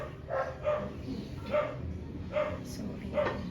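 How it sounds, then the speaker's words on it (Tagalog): A neighbour's dog barks in short repeated bursts, about five of them spaced across a few seconds, heard at some distance over faint indoor kitchen background noise. "Maingay ang aso ng kapitbahay."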